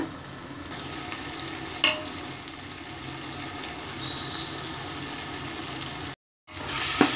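Masala sautéing in oil for mutton biryani, a steady close sizzle and crackle with occasional stirring scrapes, continuing evenly before a brief cut to silence and then resuming.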